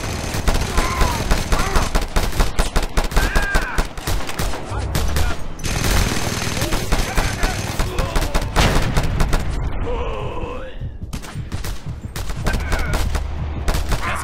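Gun emplacement firing in the Just Cause 2 video game, a loud, sustained barrage of rapid gunfire bursts and impacts that continues almost without pause, with a brief lull partway through.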